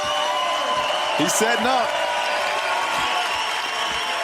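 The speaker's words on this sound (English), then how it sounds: "He's hearing it from the crowd." A basketball arena crowd at a FIBA 3x3 World Cup quarter-final in Amsterdam murmurs and stirs in a steady wash of noise as a player sets up a dunk attempt, with a commentator's short remark over it.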